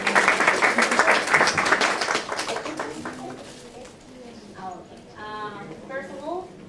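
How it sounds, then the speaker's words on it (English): Audience at a conference session applauding a professor, with clapping strong at first that fades after a few seconds, leaving scattered claps and light room noise. "Please give a warm applause to Professor Quiroz"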